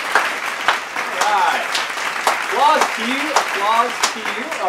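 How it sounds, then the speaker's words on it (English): A studio audience on a cooking show applauds for chef Ron Lock, with steady clapping running underneath someone talking over it. "Applause to you, applause to you, applause to you"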